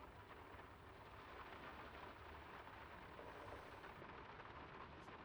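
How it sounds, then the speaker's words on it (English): Steady heavy rain pours down in the video game Die Fretlands, a constant dense hiss that stays even and moderately loud throughout with no voices. "It's really coming down. How about a quick run in the rain?"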